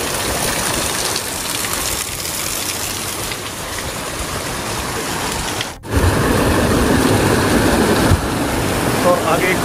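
Rushing water pours and churns loudly and continuously, a dense roar of a fast-flowing mountain rain stream close by, with a brief dip midway.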